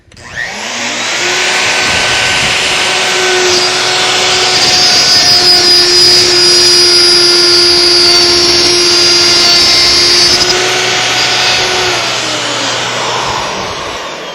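A loud shop vacuum roars steadily with a high whine, joined midway by a shrill router cutting, then both wind down.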